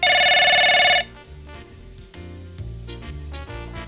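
A telephone bell rings loudly for about a second, then cuts off abruptly and gives way to a musical comedy-show background.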